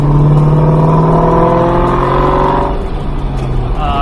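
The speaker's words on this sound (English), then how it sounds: "Let's listen to that exhaust." A 2003 SVT Cobra's supercharged V8 engine revs and roars up close, with the steady high whine of its supercharger on top, then the pitch drops as it settles back.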